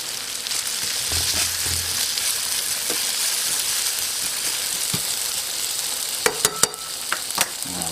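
Onion and fresh garlic fry in a pan alongside potato, giving a steady, close sizzle with a few sharp clicks of utensils near the end.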